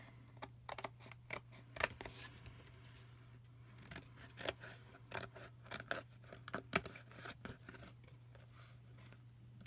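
Scissors snipping paper to make a meander book, a quick series of sharp close cuts with small pauses between them, a steady low hum running underneath throughout.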